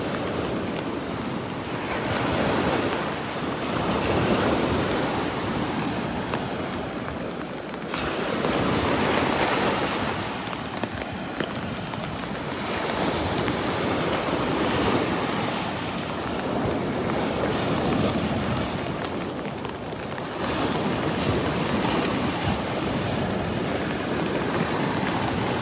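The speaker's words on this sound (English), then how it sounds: "Some big waves crashing into the shore here." Big ocean waves crash repeatedly onto the beach shore at Delnor-Wiggins, loud rolling surges every few seconds with steady wind buffeting the microphone, no talk.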